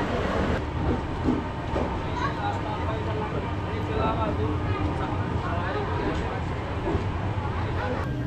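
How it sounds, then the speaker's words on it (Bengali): Lal Kuan Express (train 12354) of Indian Railway running on rails after departing a station, a steady loud rumble with faint clatter lasting the whole time. "তো আমাদের ট্রেন এখন ছেড়ে দিয়েছে একদম সময় মতো"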